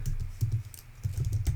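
Typing on a computer keyboard while writing parser code, a steady run of close, moderately loud keystroke clicks with an even rhythm and no talk.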